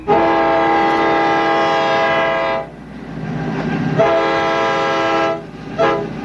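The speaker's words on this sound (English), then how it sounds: "The railroad train the Republicans called the Heartland Special rolled through Ohio today from Dayton to Toledo, pulling Harry Truman'" A loud, close train horn sounds in long blasts over the rumble of a passing campaign train rolling through Ohio, then a short final toot.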